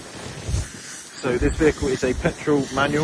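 Wind buffets a microphone outdoors beside a 2019 Mazda CX-5 at a dealership, a low rumbling hiss that runs under a man's close speech throughout.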